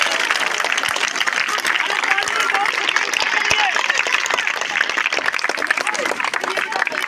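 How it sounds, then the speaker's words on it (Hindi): Loud, dense clapping from a crowd of schoolchildren at a magic show after a fire trick, continuous and close, with excited voices mixed into the steady patter. "बेटा ये आग है, लेकिन आपकी तालियां बजेंगी जोर से।"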